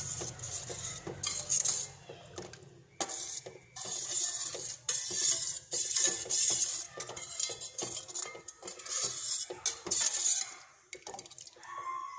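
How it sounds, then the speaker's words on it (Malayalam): A spoon stirs pineapple payasam in a pan over medium heat, giving a steady run of clinks and scrapes against the metal with a constant faint bubbling hiss. No one speaks. "ഇതൊരു മീഡിയം ഹീറ്റിൽ വെച്ചിട്ട് ഇളക്കി കൊടുത്തുകൊണ്ടിരിക്കുക"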